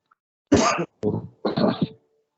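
Three raspy coughs in a row, close and fairly loud, the last one drawn out longer than the others.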